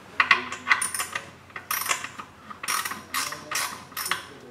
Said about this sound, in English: So I'm going to be tightening this one and the other adjacent bolt a couple of threads at a time.